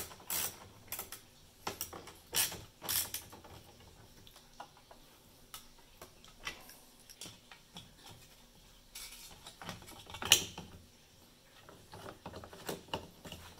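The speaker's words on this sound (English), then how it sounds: "So here's the fuse and it gets secured with these serrated flanged head nuts." A lithium server-rack home backup battery has its fuse fastened down with serrated flanged head nuts, giving a run of close metallic clicks, taps and small clinks. The bursts come in irregular spurts with quiet gaps between them.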